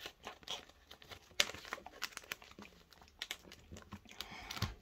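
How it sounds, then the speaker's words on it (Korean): Colored origami paper being folded by hand, with quiet crinkles, soft creasing rustles and a sharp snap of the sheet, close and faint with no speech. "반대쪽도 똑같이 접어주세요"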